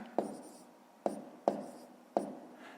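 A pen writes on paper during a fifth-grade maths exercise, four sharp taps or strokes spaced irregularly, each with a short scratchy tail, quiet and close.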